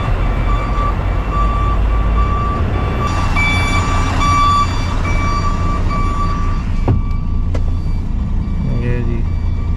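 A Mercedes transport truck backing up at a pipe loading site in Dammam, Saudi Arabia, gives a steady series of loud reversing beeps over diesel engine rumble, with a couple of sharp knocks near the end.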